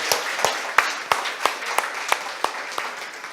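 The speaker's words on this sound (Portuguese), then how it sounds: "Vamos aplaudir ao Senhor." A small church congregation in Manaus claps in a slow, steady rhythm of about ten distinct beats, moderately close and fairly quiet, with no talk over it.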